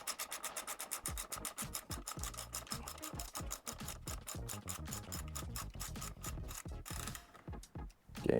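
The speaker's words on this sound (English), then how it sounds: "tighten the top bolt with a 12mm socket" Rapid clicking of a ratchet driving a 12mm socket to tighten a bolt on a KLX 150 BF motorcycle, a steady run of close, crisp ratcheting strokes with no talking.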